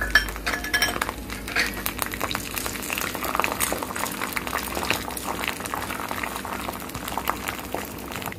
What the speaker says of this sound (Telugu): వేగాక శనగపప్పు వేసుకుందాం.